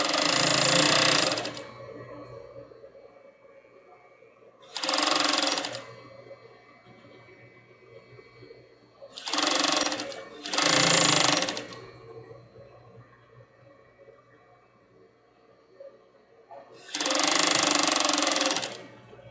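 Domestic sewing machine stitching fabric for a baby doll garment, running in four loud, close bursts of steady rapid whirring, the second-to-last burst briefly split, with quiet pauses in between.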